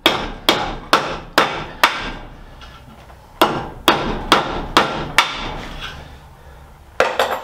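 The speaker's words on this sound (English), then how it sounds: "if I don't hammer very hard, you have more control." Sharp hammer blows fitting new metal tracks onto a Nashorn Sd.Kfz. 164 tank model, delivered close up in two quick runs of five strikes each, then one more after a pause.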